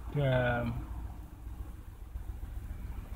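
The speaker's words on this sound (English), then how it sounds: "Seems to run fine, although it's idling a little bit" A Volvo car engine idles slowly and a little too low, giving a steady low rumble that runs throughout, with a brief voice-like tone over it at the start.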